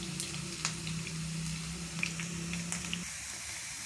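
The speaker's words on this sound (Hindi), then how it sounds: "देखिए साथ साथ हमारे जो प्याज हैं वो बहुत तेज़ी से फ्राई हो रहे हैं" Onions fry quickly in a pan, a faint, continuous light sizzle with a low steady hum underneath and a few small clicks, with no voices.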